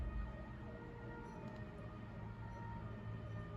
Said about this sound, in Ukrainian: Вам, напевне, чутно, там за вікном дуже мчить швидка.